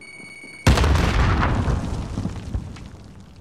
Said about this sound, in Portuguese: Lançando granada!